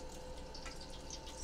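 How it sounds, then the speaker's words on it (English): Oil and grease poured off from a pan after cooking meatballs, a soft, quiet trickle and drip that rises slightly at the end. "Now I'm going to empty this oil or grease that came off of these"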